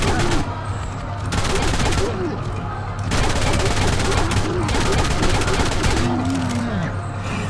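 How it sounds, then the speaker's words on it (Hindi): Assault rifle fire in the Ark Survival video game, rapid bursts of shots in long strings separated by brief pauses, loud and near, with faint creature cries mixed in. "अभी हमारे पास 80 गोली हैं असॉल्ट राइफल की,"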